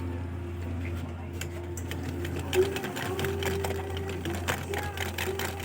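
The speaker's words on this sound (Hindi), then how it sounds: "मैं आपको ये सिलाई मशीन चला कर दिखाता हूँ कि इसमें किस तरह का फ़ॉल्ट है।" A household sewing machine with a faulty bottom stitch runs steadily and continuously, its low motor hum and rapid needle clatter holding level throughout at close range, with a brief dip near the middle.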